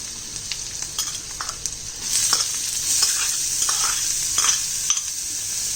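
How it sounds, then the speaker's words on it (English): Chopped onions sautéing and being stirred in a pan for a spicy Maharashtrian gram flour dish, a steady hiss of frying that grows louder and denser partway through, with scraping stir strokes over the top and no talk. "And to this, let's add in chopped onions."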